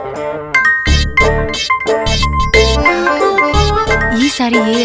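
A mobile phone rings with an incoming call, playing a bright, tinkling melodic ringtone of repeated chiming notes that stays loud and continuous throughout.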